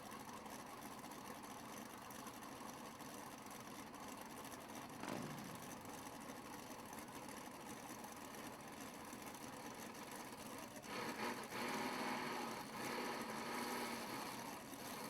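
A drag racing car at the Yellow Bullet Nationals builds boost on the line, its engine a steady distant drone that rises into a louder, harsher roar near the end.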